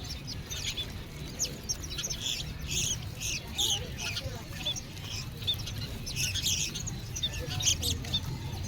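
Captive birds offered for sale at an outdoor day market in Laos chirp and tweet in bright bursts throughout, with faint clucking amid a low steady crowd murmur.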